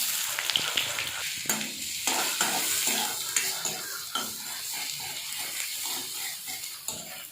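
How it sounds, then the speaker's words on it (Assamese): Onions dropped into hot oil in a pan for an Assamese curry sizzle loudly and continuously up close, with the scrape and clink of a spoon stirring throughout. "তেলটো গৰম হোৱাতে পিঁয়াজখিনি দি দিছোঁ"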